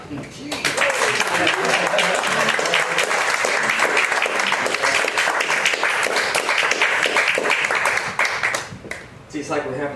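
A live concert audience applauds for a singer-songwriter with full, sustained clapping. It dips briefly near the end before rising again.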